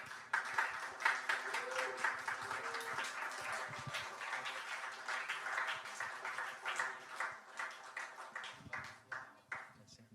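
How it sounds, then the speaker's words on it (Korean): A church congregation at a youth worship service claps for new full members, a dense and continuous round of applause at moderate distance with faint voices mixed in. "우리 앞으로 모실 때 큰 박수로 한번 앞에 모실까요?"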